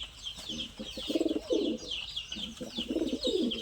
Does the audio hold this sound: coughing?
no